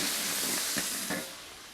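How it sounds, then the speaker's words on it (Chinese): Chopped chili peppers stir-fry in hot oil, giving a brief, steady hiss and sizzle with a couple of soft scraping stirs, close by and fading slightly at the end. "炒海椒啊"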